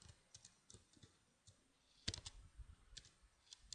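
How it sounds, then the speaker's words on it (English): Keys tapped on a computer keyboard while entering C++ code, a quiet run of scattered clicks with a denser burst partway through, close and dry with no talking. "So what I will do is just type in"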